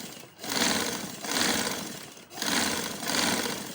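A sewing machine stitches the hem edge of a shalwar in four steady bursts of rapid whirring, each about a second long, with brief pauses between them and no talking.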